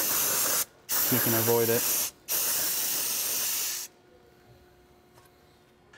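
Brake cleaner sprays hard onto the rear brakes of a Mercedes-Benz W203 in two long, close hissing blasts, with a short spoken remark between them, then quiet.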